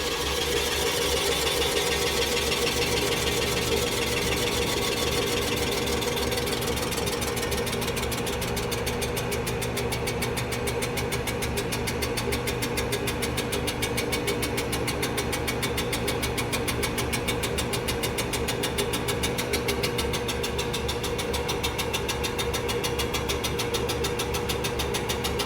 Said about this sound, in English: So you can hear it change RPM there, and it's moved into that clearance position.